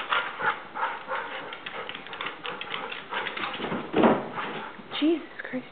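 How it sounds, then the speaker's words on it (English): A dog scrambling rapidly up a staircase indoors, its claws and paws making a quick irregular patter with a few heavier thumps, while people talk over it. "the dog flies up the stairs"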